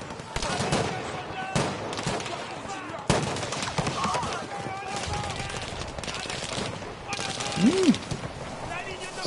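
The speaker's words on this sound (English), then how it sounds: "All right, I got a machine gun now." Machine gun fire in the World War II shooter Battlefield V: dense, loud bursts of automatic gunfire with sharp cracks, set among battle noise and shouting voices.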